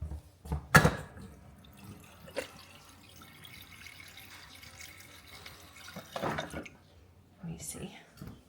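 Filtered water poured at home in a few short splashing bursts, with quiet handling sounds and faint murmuring between pours.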